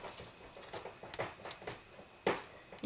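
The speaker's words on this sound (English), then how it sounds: "That's my cat going after my leather sofa." A cat claws at a leather sofa, giving faint, irregular scratchy rasps and soft patters in a quiet room, with a few sharper scrapes standing out.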